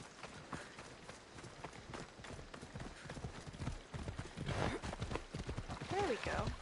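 A horse gallops in Assassin's Creed Odyssey, a rapid rhythmic clatter of hooves that grows louder over several seconds, with some voice sounds briefly mixed in near the end.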